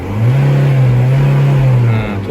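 A car engine with its EGR and DPF deleted revs up and holds a steady high drone at around 3000 rpm, loud and close, easing off at the end.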